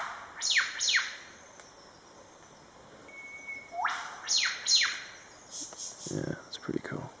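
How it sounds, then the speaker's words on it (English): Two birds trade a duet call, with sharp, bright, down-slurred whistled notes in quick pairs and answering phrases that overlap. The calls are fairly close, and some low rustling follows near the end. "You'll notice the first half is started by one of the birds, and then it's always completed"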